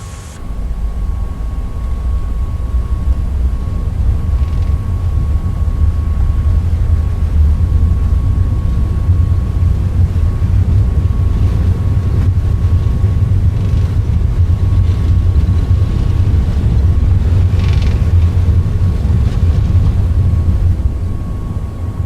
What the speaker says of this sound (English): Flight attendants, prepare for takeoff, please.